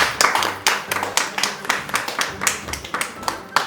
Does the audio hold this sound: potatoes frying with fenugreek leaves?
no